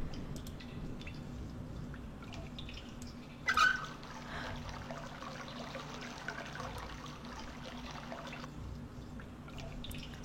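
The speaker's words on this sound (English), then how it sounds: "so I've drained the water that was in this chest" Water draining out of a chest in a video game with a plumbing drainage system, heard as a steady trickling and dribbling flow with a brief louder splash near the start.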